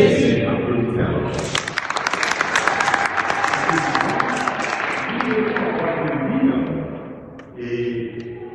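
A church congregation at a memorial mass breaks into sustained applause that swells and carries on for several seconds in a large room, with a voice speaking over it at the start.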